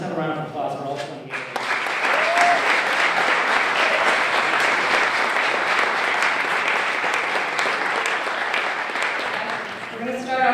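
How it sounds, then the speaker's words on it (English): A live audience gives a sustained round of applause for a field of mayoral candidates at a candidate forum, dense and steady for several seconds, with brief talk at the start and again as it fades. "And let's have a round of applause for all 28."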